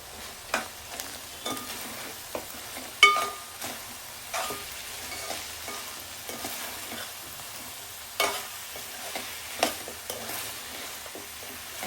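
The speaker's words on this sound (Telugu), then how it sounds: "పచ్చి ధనియాల పొడి కూడా యాడ్ చేసుకుందాం ఇది ఒక టూ స్పూన్స్ యాడ్ చేసుకోవాలి మిక్స్ చేసుకుందాం" Coriander powder stirred into mutton curry in a pan: soft, irregular scraping strokes of a spoon recur over a faint, steady sizzle, close by and without speech.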